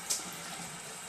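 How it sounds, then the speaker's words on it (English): Tap water runs steadily into a bath being filled for a silicone doll, a soft continuous hiss at moderate distance with a small splash near the start. "I'm going to keep filling this up until I have a little bit more water in there."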